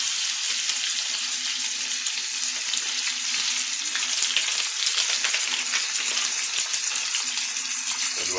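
Onion, garlic and peppers fry in a pan, a steady close crackling sizzle that runs throughout with faint stirring and no talk.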